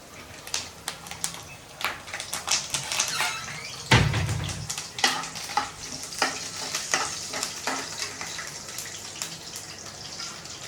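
Cumin seeds and curry leaves sizzle in hot oil with peeled garlic while being stirred, a steady close crackle with scraping spoon strokes and one heavy knock partway through, no talking.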